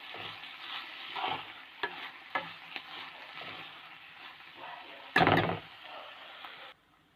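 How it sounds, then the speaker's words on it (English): Tomato and coriander chutney ingredients stirred together in a pan, with a low sizzle, scattered scraping spoon strokes and one louder clattering burst near the end, no talk. "And you have to mix all these things together again."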